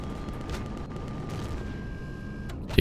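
Gunfire from a weapon shooting at creatures near a spawner in Empyrion Reforged Eden, a few muffled booming shots over a rumbling ambient bed, with a sharper burst at the very end.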